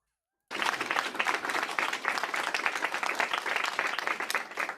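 Applause breaks out suddenly after a brief silence at a school lunch announcement at Aylesbury Public School, a dense, even roar of many hands clapping that holds steady and loud to the end.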